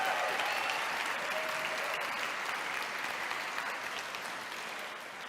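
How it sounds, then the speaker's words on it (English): A round of applause fills the room for a performer at a startup incubator demo day, steady and dense throughout, tapering slightly toward the end with no voices over it. "We got a round of applause for Nina."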